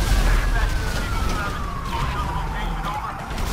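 A wailing siren sweeps steadily downward over a dense, noisy background, with police sirens droning continuously throughout, in the video game GTA V.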